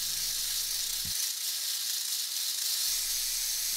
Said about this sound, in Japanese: もちろんガラガラヘビが威嚇をするときはラトルを鳴らしますが、その鳴らし方にも強弱があります。